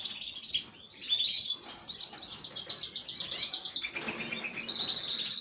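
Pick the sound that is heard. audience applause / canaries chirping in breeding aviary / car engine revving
canaries chirping in breeding aviary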